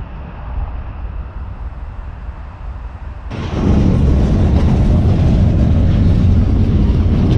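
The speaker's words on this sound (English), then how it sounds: "Train is right through here." A train rolls through a rail yard on a freight-hopping trip across Ontario and New Brunswick. A steady low rumble swells abruptly partway through into a loud, dense roar that stays constant to the end.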